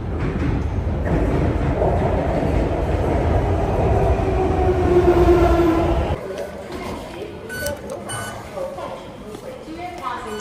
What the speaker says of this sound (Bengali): এই যে আমাদের ট্রেন চলে আসছে।